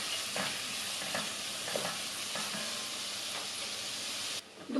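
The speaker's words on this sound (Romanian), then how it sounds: "Amestecăm și așteptăm ca ceapa să se înmoaie. Amestecăm din când în când." Chopped onion with salt and freshly ground pepper softens in a frying pan, sizzling and hissing steadily while a spoon stirs it in several soft scraping strokes, close and continuous.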